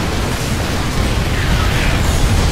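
Dense, sustained explosion barrage from StarCraft II siege tanks attacking a base, a continuous loud rumble of booms and bursts with no clear gaps.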